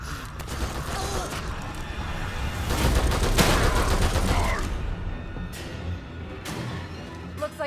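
Gunfire in The Evil Within 2, with rapid bursts of shots and mechanical clatter swelling in the middle of the stretch over low game ambience, then a few isolated reports as it tapers off.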